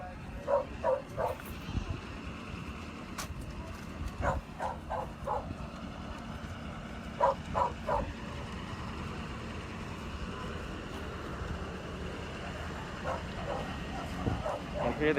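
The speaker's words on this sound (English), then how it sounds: "You can see the big dogs." Several big rescue dogs bark in short bursts at an airport after customs clearance, the barks coming in clusters over steady background rumble and people talking.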